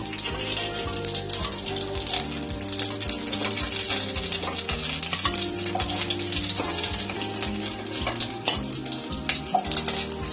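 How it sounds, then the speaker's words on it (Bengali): Steady frying sizzle of bhetki fish in hot oil with clinking utensils and stirring, under continuous background music throughout. "মাছগুলো দুই দিক ভাজা হয়ে গেছে, মাছগুলো এবার তুলে নেব।"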